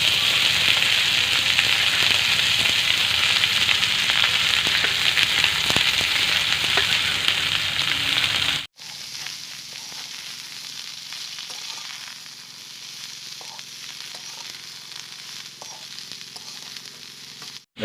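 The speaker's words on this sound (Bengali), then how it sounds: "আমরা বাঁধাকপিটা দিয়ে দিচ্ছি।" Cabbage sizzles steadily in hot oil in a pan after a tempering of cumin and other spices, a loud, continuous frying hiss for about nine seconds, then a cut to quieter sizzling with occasional soft stirring clicks.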